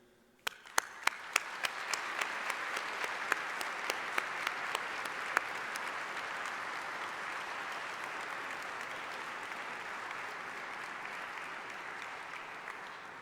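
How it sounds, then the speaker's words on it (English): A university graduation ceremony audience breaks into applause, a few sharp claps at first swelling into a sustained, even wash of clapping that continues throughout. "Please join me in giving a humdinger clap of thanks to all those who supported you"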